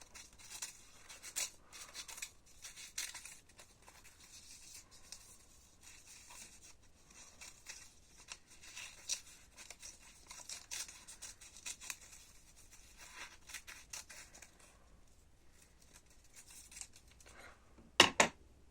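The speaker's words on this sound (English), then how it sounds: "So if we cut this in half, let's see what happens." Scissors cut through a paper Mobius strip with soft, repeated snips and papery rustling, close but quiet, ending in a couple of sharper handling sounds.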